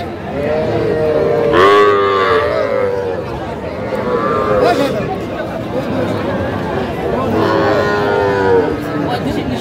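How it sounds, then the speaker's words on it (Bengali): Bull calves bellow in drawn-out moos at a crowded cattle market in Faridpur, several calls rising over a constant babble of buyers and sellers haggling nearby. "ষাঁড় বাচ্চা।"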